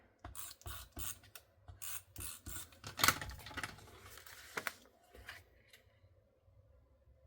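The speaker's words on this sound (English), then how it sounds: "put that down with a little bit of tape runner here" Cardstock pressed down onto a paper craft template with a tape runner: a series of short, close rasping and rubbing strokes in quick bursts, one sharper crinkle midway, then trailing off into quiet handling.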